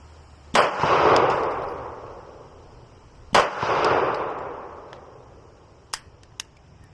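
Two loud, sharp Glock 45 pistol shots fired at a target 10 yards away, each cracking out with a long echoing tail, followed by two faint metallic clinks as the gun goes quiet.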